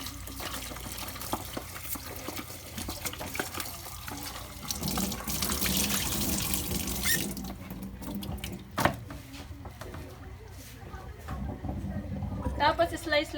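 Tap water runs steadily over a peeled cucumber being washed at a kitchen sink, with splashing that shifts as the cucumber is handled and a brief louder splash near the end; no talk.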